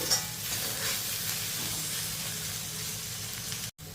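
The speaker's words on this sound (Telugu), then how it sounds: "ఇప్పుడు ఈ వెల్లుల్లి వేసిన తర్వాత ఇంకొక నిమిషం ఫ్రై చేసుకోవాలి." Okra pieces and garlic fry in a pan with a steady, even sizzle that holds close and continuous, then cuts out abruptly near the end.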